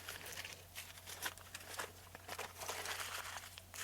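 Paper or plastic being crumpled by hand for gel printing, a close, busy crinkling that keeps going for about four seconds with uneven bursts and no voices over it.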